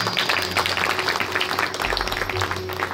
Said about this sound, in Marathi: वाजवा मनसोक्त टाळ्या वाजवा.